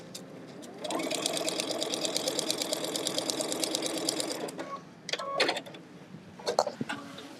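A sewing machine stitches across a small line on quilt fabric at a short stitch length of 1.6, a close, fast, even whirring chatter lasting a few seconds, then stopping and leaving scattered clicks and handling noises.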